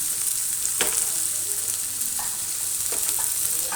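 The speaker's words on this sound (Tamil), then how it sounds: "அப்படியே நம்ம வெங்காயம் மட்டும் வதக்கிக்கிறேன் வெங்காயம் போட்டுக்கிறேன் பச்சை மிளகா ஒரு நாலு போட்டுக்கிறேன்" Onions and four green chilies sizzle in a pan for a tomato kurma, a steady close frying hiss with a few soft stirring clicks and no talk.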